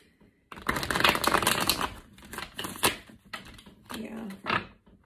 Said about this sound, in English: Still getting better on my shuffling.